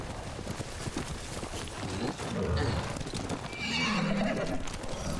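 A horse gallops with steady clip-clop hoofbeats and lets out a loud whinny near the end, in the samurai game Ghost of Tsushima; a voice murmurs faintly underneath.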